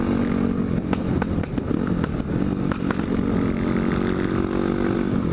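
A supermoto motorcycle riding on mountain road NC80 drones continuously and loudly close up, its engine note wavering slightly with throttle over steady wind rush.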